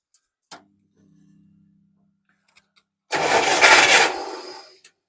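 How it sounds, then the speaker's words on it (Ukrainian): A UAZ 2206 with a UMZ-417 engine starts after standing idle for a week: a few clicks and a brief crank hum, then a short burst of the engine catching loudly for about a second and a half before it stops. "І пробуємо заводити. Подивимось, як він заведеться. Перший пуск після тижня простою."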